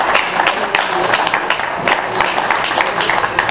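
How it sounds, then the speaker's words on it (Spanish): Steady crowd applause at a Fórmula Renault Santafesina race event in Rafaela, a dense wash of clapping held at an even level for a few seconds, with faint voices mixed in. "fuerte el aplauso para Maxi Luis y Marín"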